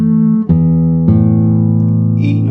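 A classical guitar plays a short modulating passage from a tango, with a few sustained chords and changing notes sounding close and clear, with no voice.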